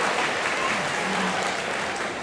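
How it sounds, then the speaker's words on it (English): Steady audience applause at an educator award ceremony, a dense continuous wash of clapping from a crowd, fairly loud and unbroken throughout. "that applause was probably appreciated"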